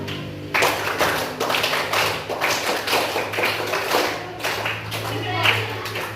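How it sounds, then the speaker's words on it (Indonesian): A group in a classroom claps together in a quick steady rhythm, many hands striking in unison, close and fairly loud, with voices faintly mixed in. "kita tepuk tangan atau tepuk semangat"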